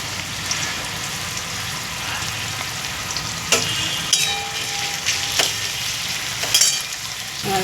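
Chopped onion, green chili and salt frying in a pan, a steady crackling sizzle throughout, with a few brief scraping clinks of stirring standing out near the middle and end.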